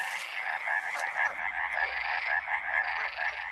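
Male midwife toad in the wild Iberian countryside, carrying eggs on its legs, giving a steady series of high, bell-like croaking notes, close and clear, repeated rhythmically and alone without voices.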